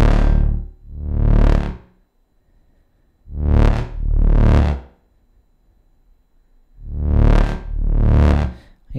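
Distorted synthesizer notes from an OB-6 and Moog Grandmother sound in pairs of sweeping, buzzy swells, each about a second long, with short silences between the groups.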